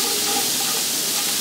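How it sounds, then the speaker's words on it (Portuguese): Garlic frying in a hot pan while being stirred, a steady close hiss and sizzle filling the moment without pause. "Então deixa o alho dourar, sempre mexendo, para você acrescentar a sua carne."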